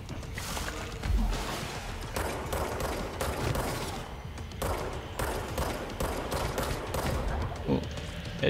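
Gunfire in the video game Control during a firefight: dense, loud volleys of shots and thuds rattle almost continuously, with a heavy impact near the start, and a player's voice occasionally under the noise.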